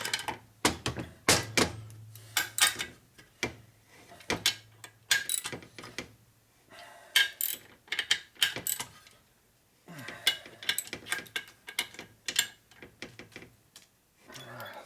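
Ratchet work on the motor of a 1961 Harley-Davidson Sportster XLCH during a rebuild: a series of close metallic clicks and knocks from a small ratchet tightening bolts, coming in irregular bursts with short pauses between.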